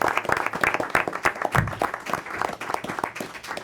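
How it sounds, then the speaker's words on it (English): Applause from the audience at a school board of education meeting, a brief uneven round of clapping from a modest group, fairly close and fading toward the end. "let's give them one more round of applause."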